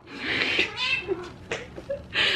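A cat meows loudly several times in a row, close up, with drawn-out vocal cries and short pauses between them.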